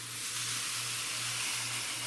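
A spray bottle gives a steady, soft hiss of spraying water onto a worm bag bedding mix throughout, with a low constant hum underneath.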